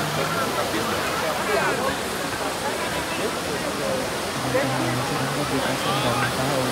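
Water from Trevi Fountain in Rome splashes and rushes in a steady, broad wash that fills the scene, with a murmur of crowd voices underneath.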